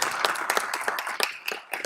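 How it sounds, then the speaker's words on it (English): An audience at a city council meeting claps for a team, with sharp, fairly distinct individual claps in an uneven rhythm, moderately quiet and with no voices over them. "So if you'll join me in giving an applause to our team."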